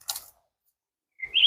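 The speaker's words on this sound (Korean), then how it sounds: "새소리 들리시나요?" Birds chirp on a forested mountain trail: one short burst of tweets, a pause of silence, then a brighter rising call, close and clear with no talking.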